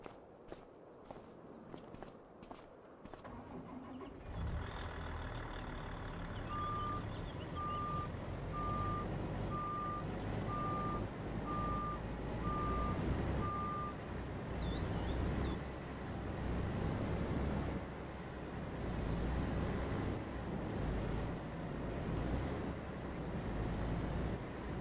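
A semi truck in Farming Simulator 25 backs up with a steady series of evenly spaced reversing beeps over a loud rumbling engine, while sharp hissing bursts of air brake release recur through the rest.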